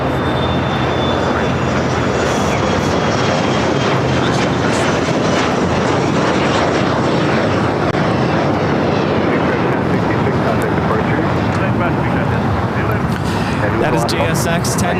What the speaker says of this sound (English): That is JSX 1066 taking off to Cabo on the E145.